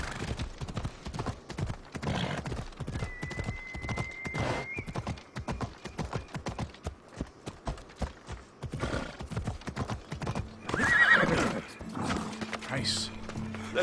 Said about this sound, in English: This horse is fairly keeping up the speed going uphill.